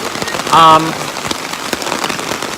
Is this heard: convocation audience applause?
no